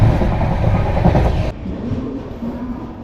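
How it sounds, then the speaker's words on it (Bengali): Heard from on board, the Sealdah–Puri Duronto Express pulls into Kharagpur Junction. A loud, continuous low rumble and rattle of the train runs throughout, and the top end dulls abruptly partway through. "তো বন্ধুরা আমাদের ট্রেন কিন্তু ঢুকছে এখন খড়গপুর জংশনে"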